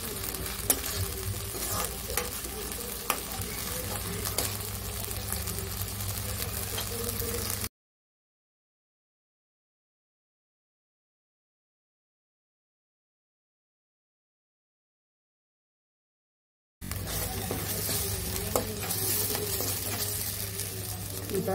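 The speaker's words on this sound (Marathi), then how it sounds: "कांदा टोमॅटो प्युरी व्यवस्थित परतून घ्यायची." Onion and tomato puree sautés and is stirred in a pan, giving a soft steady sizzle with faint scraping, broken by a long stretch of total silence before the sizzle returns.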